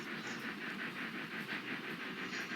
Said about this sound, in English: just a little shunting engine going back and forth